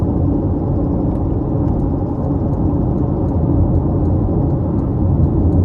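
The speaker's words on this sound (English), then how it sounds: "the road noise isn't terrible for this to be as low slung as it is" Steady low rumble of tyres and engine inside a moving 2026 Chevrolet Corvette Stingray 2LT, a low-slung petrol sports car, a constant broadband drone with no talking.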